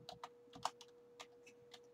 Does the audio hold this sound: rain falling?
no